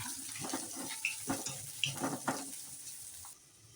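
Chillies, onion and garlic fry together in hot oil for a Maharashtrian thecha chutney, a steady loud sizzle and hiss with a few sharper crackles and pops, no talking.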